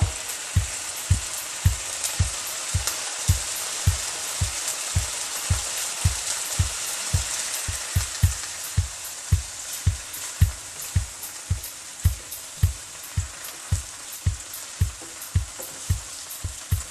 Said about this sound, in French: je vais chauffer une poêle, je vais verser un peu d'huile et puis je mets mes tranches de paneer